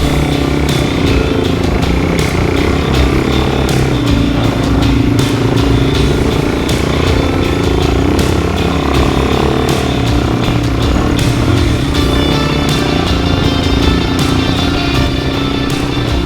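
A Suzuki DRZ400 dirt bike labours through deep beach sand at Rainbow Beach, its engine droning loud and steady up close with constant mechanical clatter and no voices.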